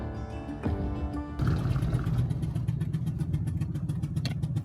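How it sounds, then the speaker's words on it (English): A large motorhome engine runs roughly nearby, misfiring from a spark plug fault, its idle chugging unevenly with a sputtering, irregular rhythm. "Sounds like a spark plug."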